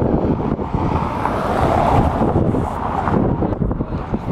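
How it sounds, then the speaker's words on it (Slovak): Strong, gusty wind in Helsinki, Finland, roaring and buffeting hard against the microphone in a continuous loud rumble with rising and falling surges. "Takže brutálne tu fúka, extrémne."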